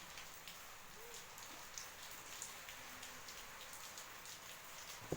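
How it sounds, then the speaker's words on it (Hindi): Rain falls steadily as a faint, even hiss of drops with scattered soft patters, continuous and distant, with no talking over it. "अब देखिए भी आज बारिश भी हो रही है"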